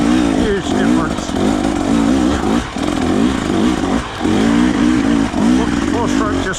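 A 2024 KTM 300 EXC TBI two-stroke off-road motorcycle revs loudly and repeatedly while being ridden, engine note rising and dropping in bursts with brief lulls, close to the rider.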